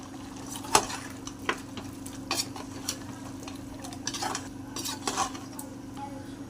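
A spoon stirs coarsely crushed green chilies and black pepper into farm chicken frying in a pan, scraping and clinking against the metal in irregular bursts over a low, steady sizzle. No one speaks.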